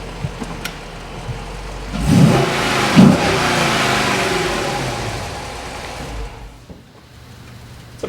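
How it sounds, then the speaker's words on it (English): A Dodge Charger SRT8 engine revs hard in two sharp bursts, then holds a loud, sustained roar for several seconds before settling down, with no talking. "You can feel the sound of the engine."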